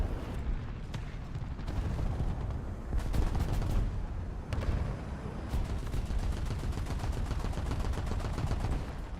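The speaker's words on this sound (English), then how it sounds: "Artillery barrage on its way." Artillery barrage in War Thunder tank combat, a dense run of booming impacts and rapid cracking bursts rolling on without pause, loud and close with no voices.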